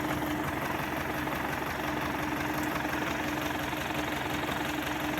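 An MTZ-80 tractor engine drones steadily and loudly with a rough, knocking rumble, labouring without pause under the constant load of pulling a two-furrow plough.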